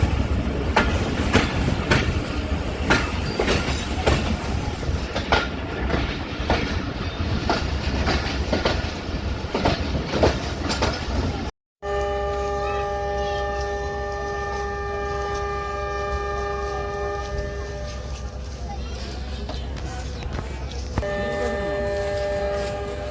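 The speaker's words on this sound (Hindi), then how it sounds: "बहुत ही खूबसूरत विसल के साथ हमारी ट्रेन 9 अप अल्लामा Iqbal express coat Radha Kishan railway station छोड़ रही है" Allama Iqbal Express 9 Up pulling out of Kot Radha Kishan station, rumbling wagons and clatter giving way to a long sustained multi-tone train horn that holds steady, cuts briefly and sounds again, loud and near.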